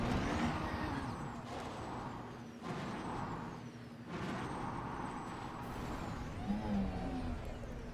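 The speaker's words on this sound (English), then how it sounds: "I like driving the SRV around." The SRV ground vehicle in Elite Dangerous drives across a planet surface, a steady motor drone with hissing, brake-like bursts and brief dips, sustained for several seconds with no talk.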